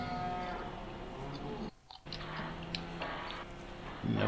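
Cows in the Farming Simulator 15 video game moo loudly and steadily over a low farm ambience, with a brief dip to near silence midway before the lowing resumes.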